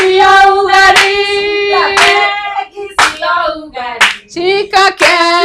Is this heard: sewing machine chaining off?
no